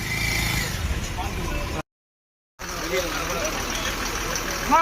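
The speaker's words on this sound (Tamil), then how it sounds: "இங்க சவுடேஸ்வரி வண்டி வருது பாருங்க" A vehicle engine runs steadily and close by, arriving amid a crowd at an outdoor welcoming event in Salem, with a continuous rumble and a gap of silence midway; voices are heard around it.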